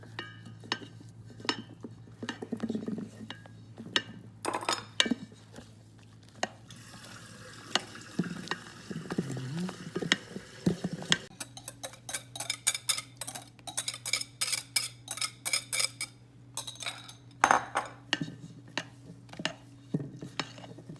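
Silicone spatula folding chocolate mousse in a bowl, soft scraping strokes broken by sharp clicks and taps against the bowl, close and fairly quiet, no talk.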